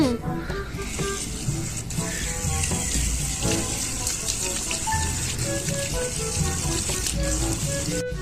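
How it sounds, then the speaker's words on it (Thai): A tap runs steadily as hands are washed during a seven-step handwashing routine, a close, continuous rushing water stream with splashy variation throughout. "เสร็จแล้วล้างมือ"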